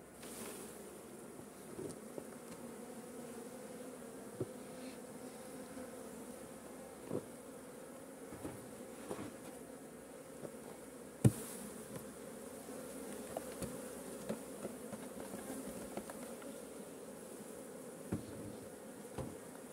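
A dense, steady drone of many honeybees buzzing close by around a hive, with individual bees flitting past the microphone now and then; no voices.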